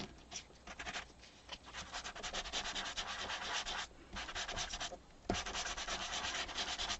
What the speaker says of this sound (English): take some sandpaper and just lightly go over the design and create a little bit more white on it